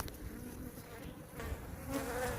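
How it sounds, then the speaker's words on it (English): A dense, steady buzzing of many honey bees close by on a hive frame, a low droning hum that swells slightly toward the end. "there's a lot of bees on this"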